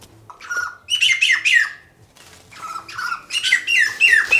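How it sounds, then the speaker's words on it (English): Wattlebirds calling nearby in a garden setting, with two bursts of harsh, squawking calls, each a rapid cluster of loud, raspy notes separated by a brief pause. "That'd be some wattle birds."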